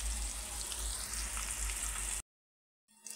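Masala-coated fish deep frying in oil over a medium flame, a dense steady crackling sizzle, close and fairly loud, cutting off abruptly into silence before a faint return.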